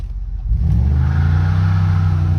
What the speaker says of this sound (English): let's see what it'll do on a wide open throttle shift